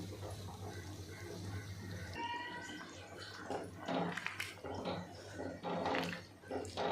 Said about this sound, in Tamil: பாருங்க புளி நான் ஊற்றுறேன்